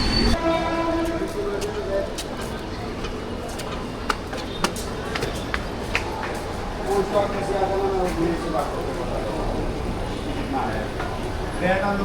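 A train rumbles past nearby with a horn sounding and sharp clanks of wheels and couplings, voices faintly mixed into the noise.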